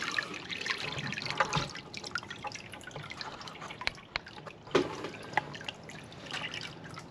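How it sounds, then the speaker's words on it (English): Water draining and dripping out of a gold prospecting sluice during a clean-up of pit dirt, a steady trickle with scattered drips and splashes, close by and alone with no voices. "He's draining the water out now."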